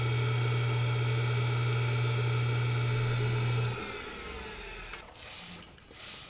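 An LS engine intake valve face being ground on a valve grinding machine, a steady close mechanical whine with a low hum that cuts off partway, leaving a softer running sound and a few clicks.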